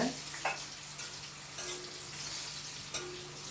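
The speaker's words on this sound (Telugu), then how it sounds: "పచ్చిమిర్చి వేగినాక ఉల్లిపాయలు వేసేయండి" Green chilies fry in hot tempering oil for a tomato egg curry, a steady close sizzle and crackle with a few sharper pops and stirring scrapes spread through, no voices.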